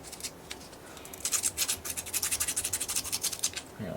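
Vigorous hand sanding with sandpaper on a small workpiece, a rapid run of rhythmic back-and-forth rasping strokes that starts faint and grows steady and close, with no voices.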